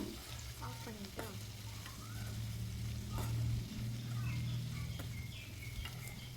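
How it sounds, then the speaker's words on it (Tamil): Steady, gentle sizzling of leaves frying in a pan, with occasional light stirring scrapes, close and fairly quiet, no talking. "ஒரு கொத்து கருவேப்பிலையை உள்ளே சேர்த்துக்கலாம் அதையும் சேர்த்து நல்லா வதக்கி விட்டுருங்க"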